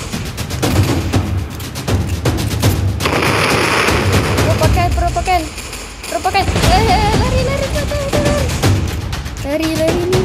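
Rapid bursts of gunfire crackle over a dense, loud Roblox Brookhaven game soundscape, with people talking over the racket throughout.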